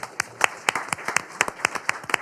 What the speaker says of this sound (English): a round of applause for our wonderful panelists